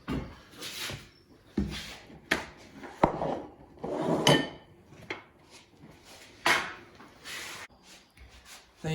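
Vegan burgers lifted from a pan onto a slate board, with sharp metallic clinks of a spatula and cookware, wooden knocks and scrapes in irregular bursts at close range.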